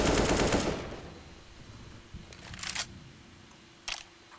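Counter-Strike gunfire on the Inferno map, fired through a wall: a loud burst of shots opens, then fades into quieter scattered pops and distant sharp cracks, with no talk.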